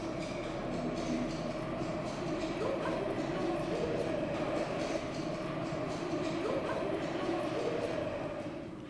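A metro train ride on a subway, with a steady rumbling roar of the carriage and rhythmic rail noise throughout, loud and close, with a faint voice underneath.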